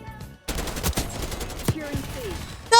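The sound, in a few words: gunfire from a video game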